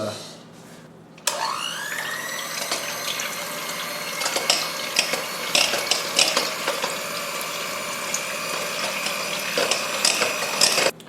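An electric mixer whirs to life after a brief pause and runs steadily, loud and close, its motor whine joined by clattering and scraping in the bowl as egg yolks are blended.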